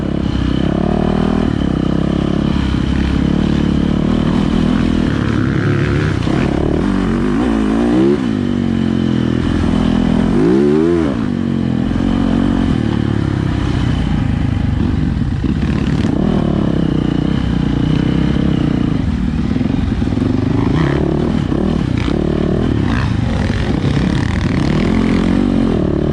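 Kawasaki KX450F and Yamaha YZ450F 450cc dirt bikes ride forest trails, engines loud and close throughout, revving and bogging in rough surges with clatter and scrapes from the terrain and gear shifts.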